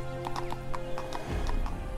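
A horse's hooves clop at an even walking pace in the video game 1428: Shadows over Silesia, crisp and close, over low game music that swells near the end.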